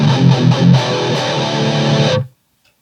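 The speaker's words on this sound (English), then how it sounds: "I really like the sound of this guitar." A 2001 Gibson Les Paul Custom 68 Reissue electric guitar, with mahogany neck, ebony fretboard and humbucker pickups, plays a few loud, driven strummed chords that ring together, then stop abruptly.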